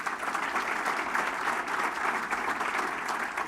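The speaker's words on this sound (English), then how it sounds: "Let's give them a round of applause." Steady audience applause at a Bloomington State of the City event, a dense wash of clapping at even strength throughout with no voices standing out.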